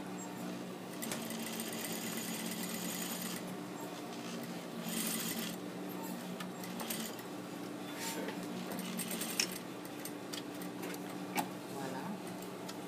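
A sewing machine runs steadily, stitching fabric along a turned fold under the presser foot, a continuous close whirring hum with light mechanical ticking throughout and no talk.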